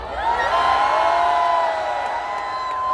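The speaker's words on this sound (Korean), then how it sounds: "함성이 들리십니까?" A large crowd at a rally in Yeouido roars and shouts in one sustained swell of raised voices that fades slightly toward the end.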